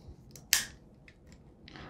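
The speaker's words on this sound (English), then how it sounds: "Again, very sharp pair of scissors." Sharp stainless steel scissors on a 20-in-1 pocket multitool snip once, a crisp close-up metallic click followed by softer small snips and a faint rustle.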